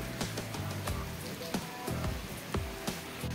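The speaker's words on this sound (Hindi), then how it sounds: "देखो ये देखो बूंद बूंद पानी गिर रही है।" Rain falls outdoors during unexpected wet weather, a steady close hiss with sharp, distinct drops striking a surface at irregular intervals.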